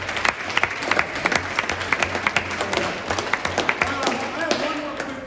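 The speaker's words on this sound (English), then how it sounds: "Can we give a round of applause to Coach Jones?" An audience at a basketball awards night applauds with steady, close clapping, individual sharp claps standing out over a low hum of the room.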